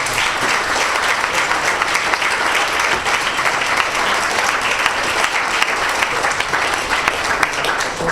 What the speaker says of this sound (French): Une bonne main d'applaudissements.